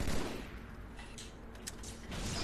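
Gunfire in an online video game shooter, heard as a few sharp, distant-sounding shots inside steady, loud game noise, with no clear talk.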